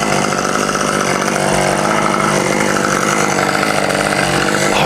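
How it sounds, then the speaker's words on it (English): A chainsaw runs continuously up in a tree during tree trimming, its loud, buzzing two-stroke engine droning steadily at high revs throughout, close and without pauses or talking. "His chainsaw is connected."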